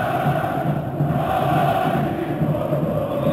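Football stadium crowd at Galatasaray versus Sparta Prague roaring in a continuous, heavy, distant swell of massed voices, with no single caller standing out.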